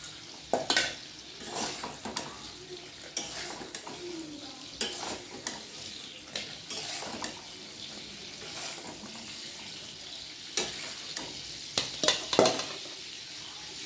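Fried bagda prawns are lifted out of hot oil, with a soft continuous sizzle underneath and repeated close scraping and clinking of a utensil against the pan.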